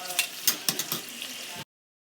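Bacon strips frying in a pan, a soft crackling sizzle with a few louder pops and stirring clatters, quiet and close, then cutting off abruptly to silence.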